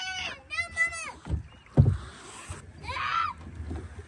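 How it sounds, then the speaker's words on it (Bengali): A rowboat moves across Hainault Forest lake, with a few hollow oar knocks and splashes close by amid people talking. "ছোটবেলা নৌকা বাইছি আর এখন আবার নৌকা বাইতেছি।"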